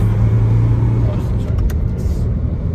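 A car driving along toward a large bank's offices in Finland, a steady loud engine and road rumble throughout with a few faint higher ticks near the end.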